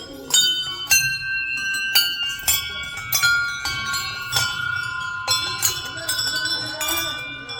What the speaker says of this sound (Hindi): ये मन्नतों की घंटियाँ होती हैं।